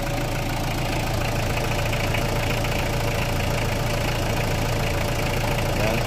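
A freshly overhauled Mitsubishi 4M40 diesel engine with new bearings, piston rings and timing chain guide idles steadily and close by, with a smooth, even knocking rhythm and no voices.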